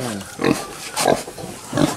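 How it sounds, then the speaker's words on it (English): A little red pig on a farm grunts three times at close range, each short snort spaced evenly about half a second apart. "That is the famous little red pig right there."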